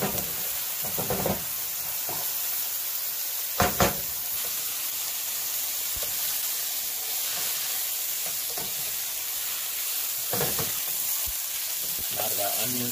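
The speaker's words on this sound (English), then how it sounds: "Throw that in there, and toss that eggplant around." Eggplant fries over high heat in a pan for a Thai vegan curry, a loud constant sizzle and hiss running throughout. A few knocks and scrapes stand out as the pieces are tossed and stirred.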